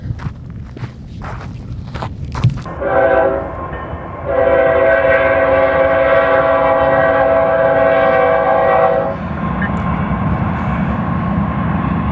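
A train rolls past on a desert railroad at night. A few sharp knocks come first, then a loud, sustained multi-tone horn blares over the close rumble of the wagons, and the rolling noise carries on after the horn stops.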